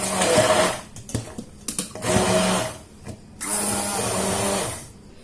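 Peach fruit for iced tea is whirred in an electric blender, loud high-pitched motor bursts in several short pulses and two longer runs, close up, with brief quiet gaps between.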